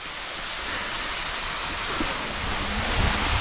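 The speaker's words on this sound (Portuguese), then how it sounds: "Agora estamos de volta aqui na cachoeira." Waterfall on a mountain bike trail near São Lourenço, Minas Gerais, a steady broadband rush of falling water that stays even and loud for the whole stretch, with no voices.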